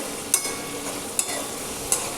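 Ridge gourd fries in a pan with a steady, close sizzle, broken by three sharp metallic clinks as a spatula stirs it.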